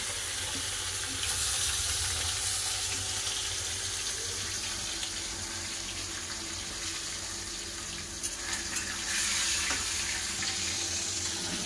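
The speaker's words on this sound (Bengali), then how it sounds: "তেল তো গরম হয়ে গেছে, মাছ ছেড়ে দিচ্ছি" Fish frying in hot oil in a kadai, a continuous hissing sizzle that stays steady and fairly loud throughout, with a brief swell near the end and no talking.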